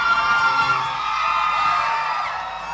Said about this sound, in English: Please give an applause to Miss Simbo.